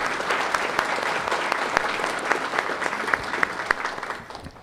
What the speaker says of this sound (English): Could you give them a nice round of applause,